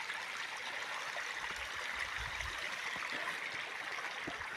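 Water leaking from a damaged village water supply line flows and trickles steadily, a faint continuous hiss of running water with no talk over it.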